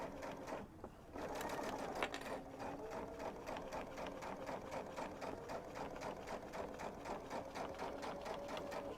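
A sewing machine stitches a zipper into soft minky fabric, running slowly and steadily with a rapid, even mechanical chatter close by, fairly quiet, after a brief pause at the start.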